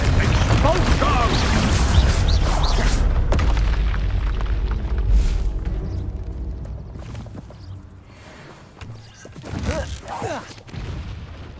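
Confringo fire spell exploding during combat in the Hogwarts Legacy video game, heavy booming blasts and crashing impacts early on, then quieter rumbles and another burst of battle noise, with voices shouting amid the fight.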